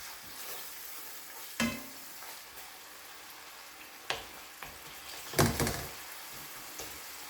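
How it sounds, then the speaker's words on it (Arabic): Minced meat kofta frying with onion in a pan, a constant close sizzle with a few scraping knocks as it is stirred. "نخليها كتشحر مع البصله"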